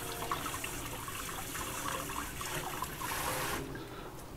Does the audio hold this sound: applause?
no